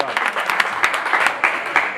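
An audience claps for soldiers during a comedy show, a short burst of lively applause with sharp individual claps over a steady crowd wash.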